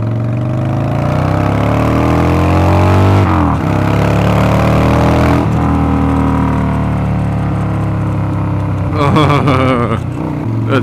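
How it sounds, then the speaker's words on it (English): Motorcycle engine wound out to high revs, then the throttle snaps shut, the roar falling into a burbling deceleration with pops near the end; steady loud mechanical drone throughout, close to the rider. "Just dumping off the throttle when you're wrapping it out."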